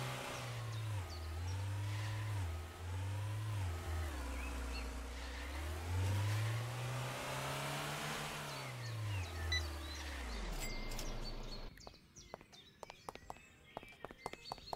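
A car in the video game Trader Life Simulator 2 revs and drives with a wavering engine tone that rises and falls in pitch for about ten seconds, then stops, leaving scattered clicks and knocks.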